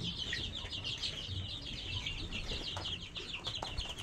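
Desi chicken chicks on a farm give a continuous chorus of high, rapid peeping, fairly close and quite soft, with no talk over it.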